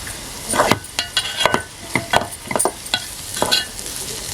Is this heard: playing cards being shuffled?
no